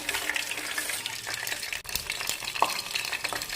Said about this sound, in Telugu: స్టవ్ మీద బౌల్ పెట్టి తాలింపు ప్రాసెస్